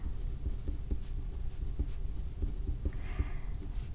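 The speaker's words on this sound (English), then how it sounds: "So first I'm going to write out the equation here." Pen or marker writing out a maths equation on a surface, a steady run of close scratchy strokes and taps with no talk.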